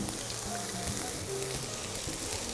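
Onions and mushrooms sizzle in a frying pan, a dense, steady hiss with faint crackles, heard close and alone without talk.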